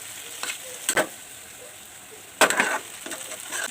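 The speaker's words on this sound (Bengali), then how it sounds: "এবার একটু হাই ফ্লেমে এটাকে জাল করে নেব, লাস্ট ফিনিশিং আর কি।" Boiled pasta with winter vegetables tossed in a pan over high flame, a soft continuous sizzle broken by a few louder scraping and stirring bursts.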